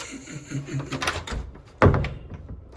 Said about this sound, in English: Besides I can't open the door.